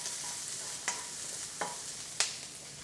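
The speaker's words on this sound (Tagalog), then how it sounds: "Isutay lang natin hanggang sa mag-moist ang garlic at ang onion." Garlic and onion sauté in a pan for chicken curry, a soft steady sizzle close by with three brief stirring scrapes spaced about a second apart, no voices.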